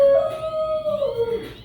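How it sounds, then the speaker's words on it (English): A dog lets out a single drawn-out, wavering howl that sags slightly in pitch, close and fairly loud, with no talking over it. "sorry for the dog barking"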